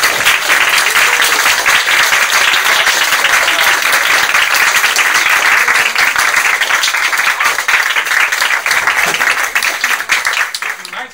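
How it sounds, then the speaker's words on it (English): Audience at a DIPG Collaborative gathering rising to its feet with sustained applause and cheering, dense loud clapping that carries on for over ten seconds before starting to fade, with crowd voices mixed in. "I want everybody to stand up and cheer for Esther"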